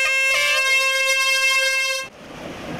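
A horn signals the start of the 2013 Asian Triathlon Championships race at Anping, Tainan. One loud, sustained blast lasts about two seconds, then gives way to a softer open-air outdoor background.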